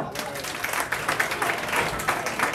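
A live audience at a comedy dating show at a bar claps and cheers in a loud, dense burst of applause that carries on throughout, with crowd voices mixed in.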